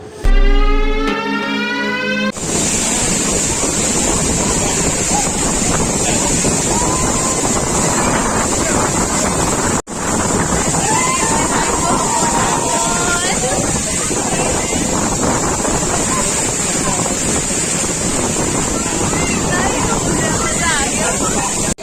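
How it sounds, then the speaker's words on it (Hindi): Bhangoru waterfall near Bir Billing roars with a dense, unbroken rush of falling water, loud and constant throughout, with wind gusts on the microphone and a brief tonal sound at the start. "हम पहुंच चुके हैं भंगोरू waterfall and what an amazing waterfall man"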